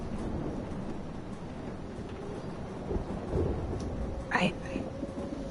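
Game-world thunderstorm in Life Is Strange, with a steady wash of rain throughout and a brief rumble of thunder rising near the end, moderately loud and heard without any speech.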